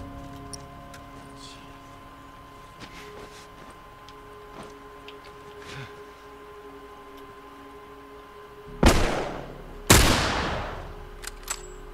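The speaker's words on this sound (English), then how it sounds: "Oh no, he's gonna shoot me." Two loud sniper rifle shots in The Last of Us, about a second apart, sharp cracks with a trailing echo, standing out from a quiet ambient bed with faint ticking and small clicks.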